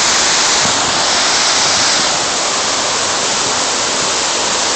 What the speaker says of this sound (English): There we are on the waterfall.